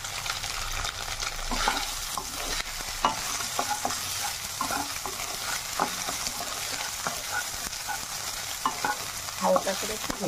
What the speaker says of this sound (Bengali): এবার ওই কড়াইতে আর একটু তেল দিলাম, এবার এর মধ্যে সোয়াবিনটা ভেজে নেবো